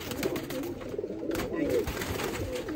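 Rojy pigeons kept as pets coo softly and repeatedly nearby, with faint background noise and a little human voice.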